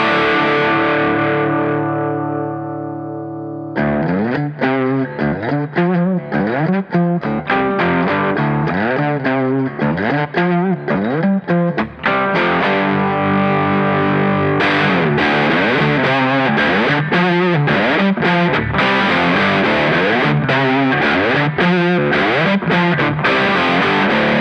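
Electric guitar played through a Boss DS-1 distortion pedal, a loud, saturated tone with a ringing chord fading out, then a long passage of rhythmic chugging riffs and sustained distorted notes, with no talking.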